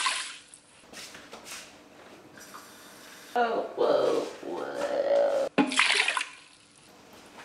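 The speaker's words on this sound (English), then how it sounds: "Pour this in the instant pot." Water and rice poured into an Instant Pot, sloshing and splashing in uneven bursts at close range, with a few quick exclamations from a voice in the middle.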